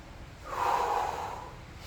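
A single heavy, forceful exhale during a garage leg workout, rising and fading over about a second, close and breathy with no talk.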